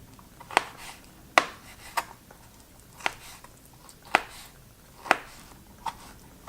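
A knife strikes a cutting board in sharp, irregular chops through jackfruit, about ten distinct knocks spaced roughly half a second apart over quiet background.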